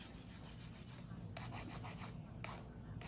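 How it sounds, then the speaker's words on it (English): Steady scratchy rasping of a hand file worked back and forth across acrylic nails, close and continuous, with brief pauses between stroke runs. "I'm done hand filing now"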